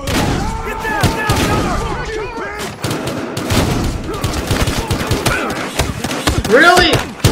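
Gunfire in a Battlefield Hardline shootout, rapid shots and bursts crackling loud and close under excited shouted dialogue and music.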